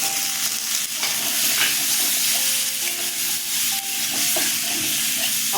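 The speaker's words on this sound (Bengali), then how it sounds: "আলু পাঁচফোড়ন দিয়ে দিলাম" Potatoes and panch phoron five-spice fry in hot oil with a loud, steady sizzle, broken by occasional scrapes and clinks of stirring, for a Bengali bata fish curry with green banana.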